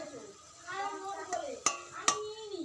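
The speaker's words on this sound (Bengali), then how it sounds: "এই যে সিম আর বিনসটা দিয়ে দিচ্ছি এর মধ্যে।" Flat beans and green beans tipped into a simmering curry in a home kitchen, with soft stirring and bubbling, two sharp clinks of a utensil against the pot, and a voice talking over it.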